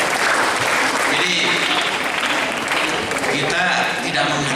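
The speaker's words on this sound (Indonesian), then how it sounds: "Tepuk tangan dulu untuk usia saya." Applause from an audience at an international poetry and essay festival, a broad steady wash of clapping lasting the whole moment, fairly loud and close.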